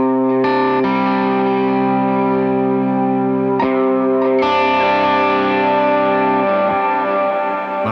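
Sustained electric guitar chords through a Quad Cortex preset, ringing out with a deep, washy reverb tail, loud and continuous, with a brief pause and restrike midway.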